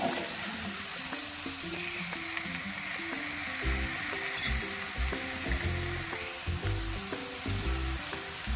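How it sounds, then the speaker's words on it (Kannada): Chopped mushrooms sizzling in hot oil over a tempering of onion and curry leaves, a continuous close crackle with occasional stirring knocks and one brief louder clatter midway. "ಮೊದಲೇ ಕಟ್ ಮಾಡ್ಕೊಂಡಿದ್ದೆಲ್ಲ ಮಶ್ರೂಮ್ ಒಗ್ಗರಣೆಗೆ ಹಾಕಿದ್ದೀನಿ"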